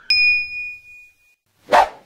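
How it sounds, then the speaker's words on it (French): A bright notification bell dings once with a clear, ringing tone that fades over about a second, followed by a short, rough burst of noise. "activer la cloche de notification"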